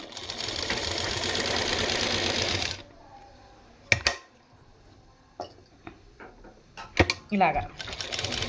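Sewing machine stitching around a square neckline of a garment, running in a loud close burst at first, then stopping while someone talks amid small clicks and handling noises.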